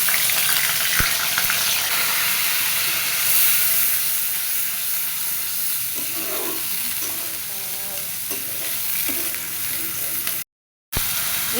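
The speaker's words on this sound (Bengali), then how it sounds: "এবার এর ভিতরে দিয়ে দিব আদা, রসুন, পেঁয়াজ, জিরে একসাথে বাটা মশলা।" Ginger, garlic, onion and cumin paste fries in hot oil with a steady, close hiss and sizzle, stirred now and then with faint scraping; a short dropout breaks the sound near the end.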